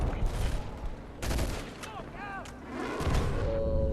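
Battle sounds from a Medal of Honor and Battlefield: Bad Company 2 shooter: a dense rattle of gunfire and heavy booming blasts from a mortar strike, loud and close, with a brief voice mixed in.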